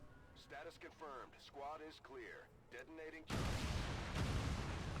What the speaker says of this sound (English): another big explosion